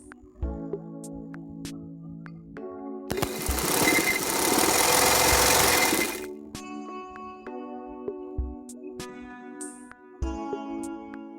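Sewing machine stitching a belted shalwar, running in steady motor bursts with a long loud continuous run in the middle and shorter starts and stops around it, close and clear.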